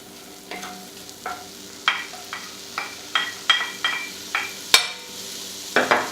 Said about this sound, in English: And you definitely want to hear that sizzle.